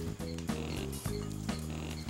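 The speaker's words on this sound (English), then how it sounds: "Those sound like pigs, right? But they're not. Those are ground lemurs." Ground lemurs giving pig-like grunting calls, a steady run of low, buzzy grunts repeating about twice a second, close and fairly loud with no talk over them.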